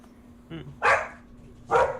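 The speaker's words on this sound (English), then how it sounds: "Can you hear that dog?" A dog barks twice nearby, two sharp, loud barks about a second apart over a steady background hum, with a faint shorter yip just before the first.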